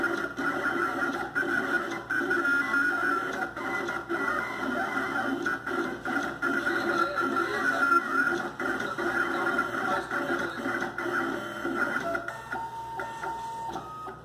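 An MVSK800 cutting plotter runs through a material cut, giving a steady, continuous mechanical whir with a bright motor whine across the whole stretch, loud and close, with no talk over it.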